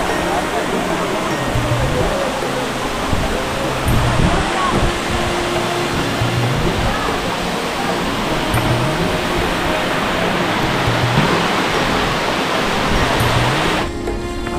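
Rushing water pours down Katiki waterfall in Araku, a loud, constant roar that holds unbroken for several seconds before cutting off abruptly.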